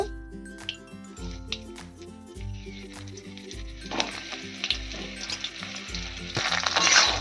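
Jujubes for a sweet-sour pickle fry lightly in hot oil, giving a steady close sizzle with soft bubbling and occasional stirring scrapes that grow brighter toward the end.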